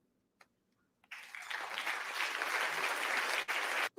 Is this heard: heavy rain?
no